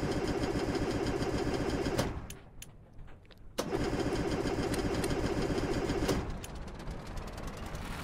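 A boat engine in the Stormworks game cranks and catches, running loud and steady, cuts out briefly, then restarts and settles into an even, rumbling idle.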